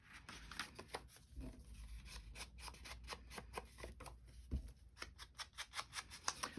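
Scissors snip through paper scraps for a collage in a rapid series of close, crisp cuts, with soft paper rustling between the snips and no voices.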